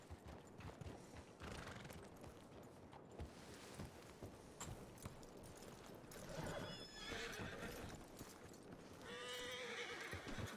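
A video game horse in a Red Dead roleplay setting clip-clops at a walk, then gives two clear whinnying neighs near the end, faint and alone with no talk.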